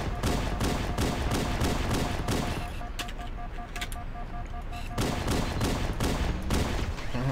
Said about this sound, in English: They usually start shooting at me right here